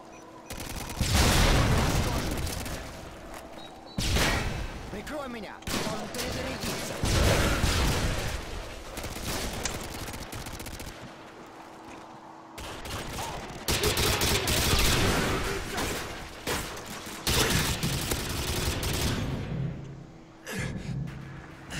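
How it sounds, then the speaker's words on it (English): Bursts of rapid gunfire from the video game Modern Warfare 2 in a multiplayer match, loud volleys broken by short pauses over about twenty seconds. "That was some nice shooting."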